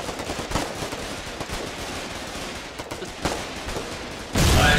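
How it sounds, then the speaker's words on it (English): Sustained gunfire rattles through a battle in the war game Foxhole, dense overlapping shots with sharp louder cracks standing out, ending in a louder burst. "Chad, stop shooting."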